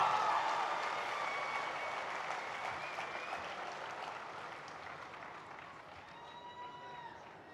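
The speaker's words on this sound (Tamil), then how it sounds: "நல்ல ஒரு கைத்தட்டல் தந்து ஃபாதரை கூப்பிடலாமா?" Warm, sustained applause from a large audience at a Christmas celebration event welcoming a priest to the stage, dense clapping that starts strong and slowly fades, with faint whistles near the end.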